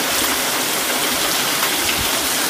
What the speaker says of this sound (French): Donc voici l'orage de nuit.